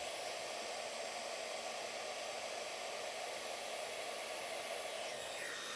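A heat gun blows steadily on crayon wax spread over a card front, a continuous loud airy roar of fan and rushing hot air with no pauses and no talking.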